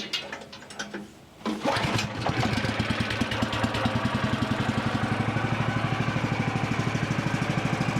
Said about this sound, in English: Let's check the mill out and see how easy it starts.